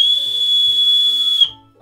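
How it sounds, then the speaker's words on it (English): A bosun's whistle gives one loud, sustained high-pitched tone, close and steady for about a second and a half before cutting off sharply. "I've never blown a bowman's whistle before."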